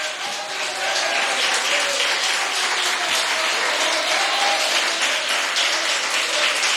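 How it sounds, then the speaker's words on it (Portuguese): A church congregation applauds during a Sunday morning worship service, loud sustained clapping filling the space evenly from start to finish with a few voices underneath. "Vamos aplaudir o Senhor? Isso, aplauda mais."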